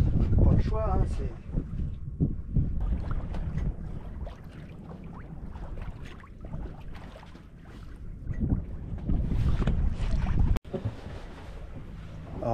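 Wind rushing past a sailboat sailing close-hauled in about seven and a half knots of breeze on a solo August 2024 trip, with steady broadband noise, gusty buffeting against the microphone and water sounds underneath.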